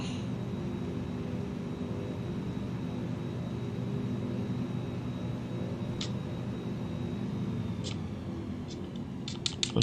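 Steady droning engine of a Zlin Shock Ultra STOL aircraft in Microsoft Flight Simulator 2020, a constant near hum during a backcountry flight, with a few brief clicks near the end.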